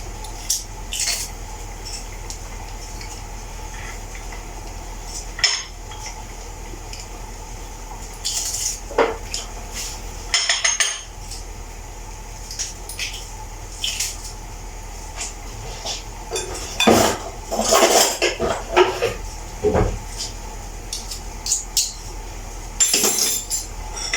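A knife minces peeled garlic cloves on a board, giving irregular sharp taps and light clinks scattered across a low kitchen hum, some in quick bursts and others spaced apart, with no talking.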